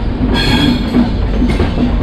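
An express train running on a parallel track near New Delhi gives a loud, close, continuous rumble with rhythmic wheel clatter and a faint squeal, heard from aboard a moving train.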